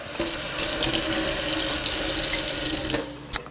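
Water runs steadily from a tap into a sample container for water hardness testing, a continuous close splash of flow that stops near the end, followed by a brief clink.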